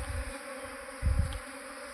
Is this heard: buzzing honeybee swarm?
yes